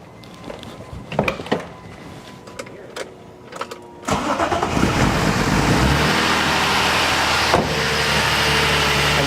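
A BMW S52 engine cranks over with a few clicks and sputters, then catches and settles into a steady, close idle.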